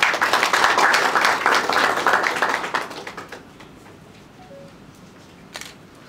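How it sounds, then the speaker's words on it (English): Brisk applause at a memorandum of understanding signing ceremony, loud for roughly three seconds and then thinning to a quiet room with a stray tap. "Another round of applause, ladies and gentlemen"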